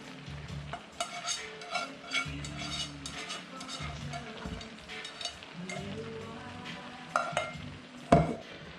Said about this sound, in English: At this point, I'm adding the veggies and the meat.